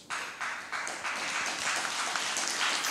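Applause breaking out at a Left party convention, starting abruptly and swelling in a few waves into steady clapping from a large crowd, with no voices over it.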